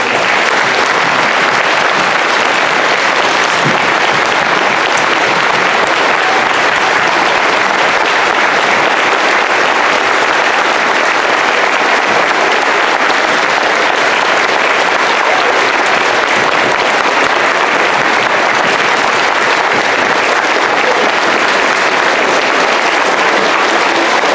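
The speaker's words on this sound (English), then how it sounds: "Please join me in giving all our veterans a round of applause in appreciation of their service to our country" Sustained, loud applause fills a room as an audience at an elementary school Veterans Day program claps for veterans, an even, unbroken roar of many hands lasting over twenty seconds.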